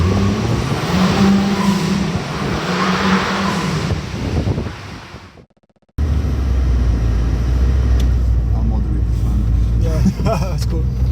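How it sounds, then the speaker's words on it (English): A Ford Fiesta RS Turbo out on a cruise along a quiet road, with a loud steady engine drone and road roar inside the cabin, a brief cut, then the engine continuing under the same drone. "let's jump to me and Dan going for a cruise in his Fiesta"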